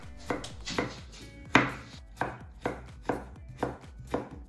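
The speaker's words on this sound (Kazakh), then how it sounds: "Картопты да ұсақтап төртбұрышты етіп тураймыз." A knife dicing potatoes into small cubes on a cutting board for lentil soup: about eight close, crisp chops in a loose, steady rhythm, each a sharp thud on the board, with no talking.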